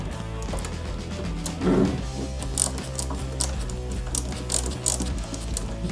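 A gear selector housing being fitted into a gearbox and secured with a screw gives close, steady, rhythmic mechanical ratcheting clicks with a few louder knocks.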